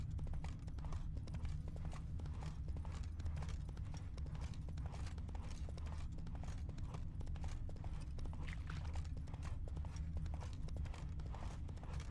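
Steady clip-clop of horse hooves at a walking pace in the video game The Witcher 3: Wild Hunt, continuous and fairly close, with a low rumbling ambience underneath.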